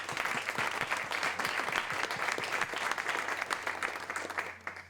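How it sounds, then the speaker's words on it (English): An audience at a conference session on biodiversity finance breaks into warm applause: dense, sustained clapping from many hands that holds steady for several seconds before easing slightly at the end. "Warm applause."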